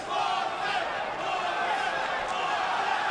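A boxing arena crowd roars steadily as the fighters are introduced, a loud, sustained wash of cheering with a voice faintly under it.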